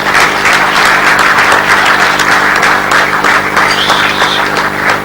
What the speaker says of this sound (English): please give a big round of applause to Seema Ghazal Sahiba from Karachi.